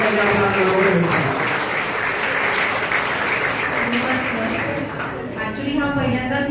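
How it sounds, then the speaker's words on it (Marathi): An audience at a school ceremony claps loudly for a teacher, a dense sustained burst of applause close by, with voices and some music-like tones mixed in toward the end. "जेव्हा आपली लाडकी शिक्षिका समोर आली तर खूप जोरात टाळ्या या ठिकाणी वाजलेल्या आहे"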